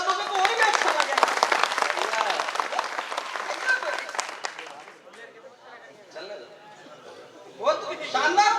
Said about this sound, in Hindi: पर एक बार जरा ताली बजा दो तो और भी अच्छा लगेगा।